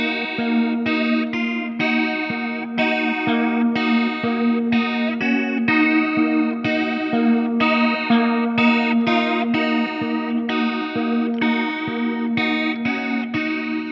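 An electric guitar part, played through a chorus effect patch, rings out in a steady sequence of sustained, shimmering picked notes and chords, loud and continuous with no talking.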